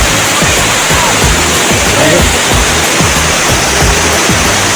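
A loud, constant roar of rushing, splashing water from a waterfall on Lombok fills everything, steady and close with no pauses.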